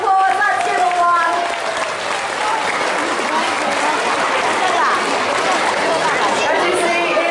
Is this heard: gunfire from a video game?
no